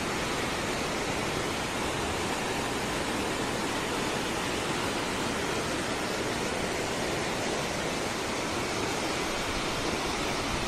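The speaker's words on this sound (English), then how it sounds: "some part of the river is rough, and some part is more just like just slowly flowing" Ryakobi River near the old Bog Walk power station, rushing over rough stretches: a dense, steady broadband roar of flowing water, close and constant throughout, with no voices.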